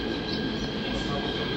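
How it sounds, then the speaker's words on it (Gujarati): A subway train arrives at a station in Korea, a continuous loud rolling rumble of wheels and carriages filling the platform, steady and close throughout. "તો અમારી ટ્રેન આવી ગઈ"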